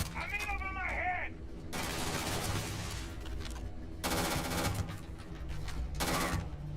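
Gunfire from the video game Starfield: dense bursts of automatic shots in several loud stretches, mixed with game effects, a brief tonal warble early on and some voices beneath.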